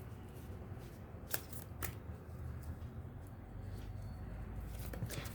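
A deck of oracle cards is shuffled close by in quiet, soft riffling bursts with a few sharper flicks and snaps, alone with no talk.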